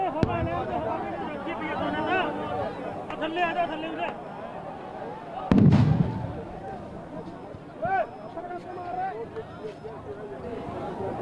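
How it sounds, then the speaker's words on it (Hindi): A single tear gas shell fired by Haryana police at a farmers' protest near border barricades gives one sharp, heavy thump midway, heard over steady crowd chatter and a voice talking throughout. "शेल फायर किए जा रहे हैं हरियाणा पुलिस के द्वारा कि लोग कच्चे रास्ते से भी हरियाणा की सीमा में दाखिल ना हो सके।"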